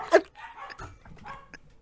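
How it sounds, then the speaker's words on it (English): Dogs barking a few short, sharp times at a distance, heard indoors with quieter yips and noises in between. "Stupid dogs."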